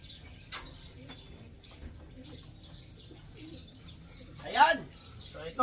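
A racing pigeon coos softly indoors, faint scattered clicks and rustles, then a clear throaty coo near the end with a brief flutter after it.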